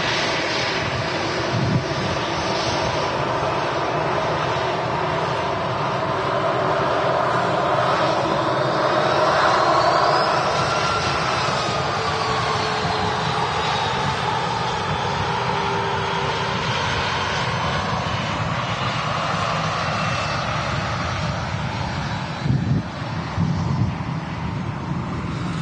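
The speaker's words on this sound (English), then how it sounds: "Air France A320 taxi in front of us here at Manchester's RVP." An Air France Airbus A320 airliner taxis at Manchester Airport, its engines giving a steady, fairly close whine and rumble that slowly shifts in pitch, mixed with wind noise on the microphone.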